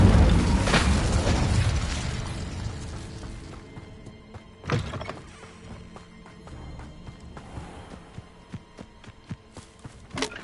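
The Incendio fire spell is cast in the video game Hogwarts Legacy with a deep whooshing boom. Further thuds and sharp knocks follow, separated by quieter gaps and a faint background hum.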